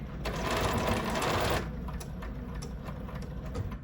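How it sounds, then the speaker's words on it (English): A BERNINA sewing machine stitches a seam in a rapid, steady whirring run that lasts over a second before stopping, followed by quieter mechanical clicks. "So that is going to be safe for me to stitch this in place now."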